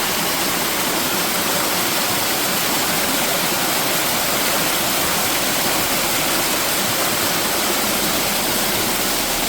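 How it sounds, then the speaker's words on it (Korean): A full, steady rush of a rain-swollen mountain stream roars continuously and loudly up close, with no voices. "어제 비가 많이 와서 이렇게 계곡물이 많이 흐르고 있습니다."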